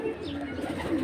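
A pigeon, a young Jabra, gives a low, close cooing over a short moment, with faint background noise.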